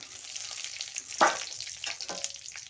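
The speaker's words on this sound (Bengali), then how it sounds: "কড়াইতে একটু তেল দিয়ে দিলাম একটু পাঁচ ফোড়ন দিলাম" Panch phoron spices crackle in hot oil in a wok, a soft close sizzle with two sharp pops or stirring clicks near the middle, no voices.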